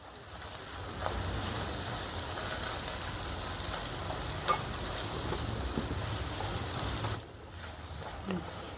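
Steady, close sizzling of garlic chili powder frying in oil in a pan. The noise holds evenly for several seconds, then drops suddenly to a quieter hiss near the end.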